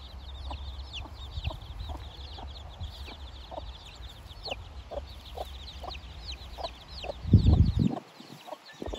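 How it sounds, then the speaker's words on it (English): Black Copper Marans hen and her chicks clucking softly in a repeated rhythm nearby, with chick peeps above and a louder rustle or scuffle near the end. "here's one of my hens"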